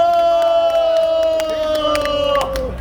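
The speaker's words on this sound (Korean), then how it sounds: "제임스 박 소개합니다. 박수!" A crowd at an outdoor street rally cheers and shouts, with a sustained voiced cheer and scattered sharp claps over a few seconds, loud and near.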